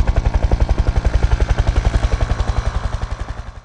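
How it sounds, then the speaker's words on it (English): A loud, close police helicopter with rapid rhythmic rotor thumps chopping steadily, slowly fading slightly toward the end. "Police helicopter."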